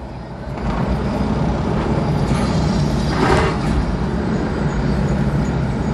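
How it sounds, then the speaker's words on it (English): Freightliner Classic truck with its Jake brake engaged, a loud steady low rumbling drone that holds close and continuous throughout, swelling briefly near the middle. "Them Jake brakes is just singing, dog."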